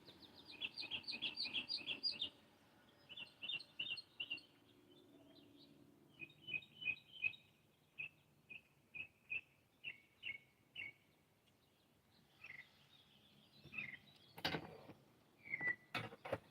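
A small bird chirps in quick, high, repeated bursts, sometimes in rapid trills and sometimes as single sharp tweets with pauses between, fairly close but soft against a quiet indoor background.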